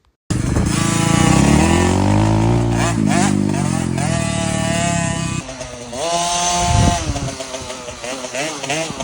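A KTM 50 mini motorcycle with a newly installed clutch rides a track, its small two-stroke engine buzzing loud and close, revving up and down through rising and falling pitch sweeps, with a voice talking faintly under it.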